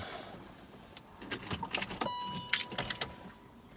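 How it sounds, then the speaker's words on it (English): A 2002 Range Rover L322 has its ignition cycled, with keys jangling and a series of faint clicks and chimes inside the car, a short electronic tone sounding partway through. "So if we cycle the ignition"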